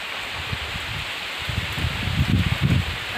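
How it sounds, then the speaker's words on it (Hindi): Heavy rain pours outside a house in a hill setting, a steady close hiss with soft low patters swelling toward the end. "देखिए बाहर आप लोग देख सकते हैं इतनी मोटी बारिश।"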